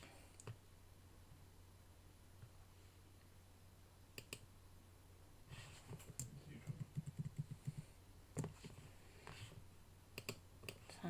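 Mouse and keyboard clicks while designing vector graphics on a computer, sparse single clicks at first and then a quick cluster of light taps, close and quiet over faint background hiss.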